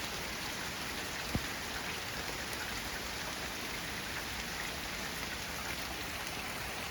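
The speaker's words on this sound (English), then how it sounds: "The rain has finally come to wash all that disgusting pollen off my solar panels." Rain pours steadily onto the roof and solar panels of a van, a dense, even hiss of drops drumming close by with no pauses and no voices.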